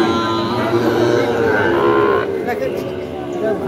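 Sahiwal bull calves at the Ambari cattle market in Dinajpur district give a loud, drawn-out moo nearby, with faint market chatter in the background.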